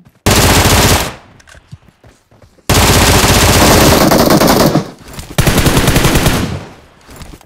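Loud automatic gunfire in the shooter game PUBG Mobile, rapid bursts of shots in two long volleys separated by a short lull, followed by a final shorter burst, close and punchy.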